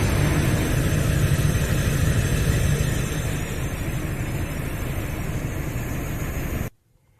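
A 1995 Holden (Isuzu) Rodeo engine runs at a steady, loud idle, a dense low rumble that carries on evenly for several seconds before cutting off abruptly near the end.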